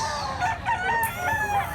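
A grey Gilmore Hatch gamefowl rooster with blue legs crows once in a short, loud, close call, with no voices over it.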